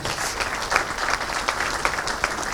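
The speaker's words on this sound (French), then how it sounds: "On peut l'applaudir." Steady applause from a conference audience at a closing session fills the whole moment, many hands clapping at once with a few louder claps standing out.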